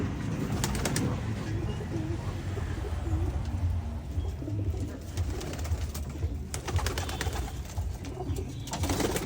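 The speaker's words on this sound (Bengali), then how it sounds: "বিভিন্ন প্রজাতির সব দামি দামি কবুতর আছে আমার কাছে" Many pigeons of various breeds coo together in a rooftop loft, overlapping soft rolling coos close by with occasional wing flutters and rustling.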